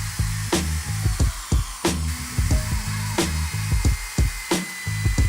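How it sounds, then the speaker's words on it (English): A power drill drives 3-inch screws into wooden shelf boards, short repeated whirring bursts with stepped pitch and sharp clicks between, close and loud, about seven runs in quick succession. "I'm gonna use those 2 as supports while I drill in the end piece and then just drill in the rest"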